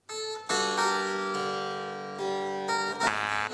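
Baroque harpsichord-like keyboard playing a Henry Purcell Allemande, a sustained bright plucked melody with chords, steady and moderately loud, no speech.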